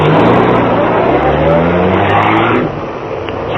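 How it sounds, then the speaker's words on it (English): Radio drama effect of a car starting up and accelerating away, a loud close engine roar climbing in pitch before dropping off suddenly near the end, with no talk. "Cato, start the car, quick."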